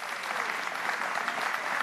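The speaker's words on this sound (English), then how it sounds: "Let's give him a big round of applause." A town hall audience on rent security and tenant protection in Northern Manhattan breaks into applause, a dense, even roar of many hands clapping without pause.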